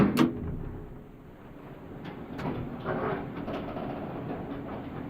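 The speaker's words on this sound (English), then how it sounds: "the doors at the beginning we do not want. I don't really want that creaking that happens there" A train recording from a sound design library, with a sharp door clunk at the start followed by creaking and low rumbling rail noise, moderately loud and steady throughout.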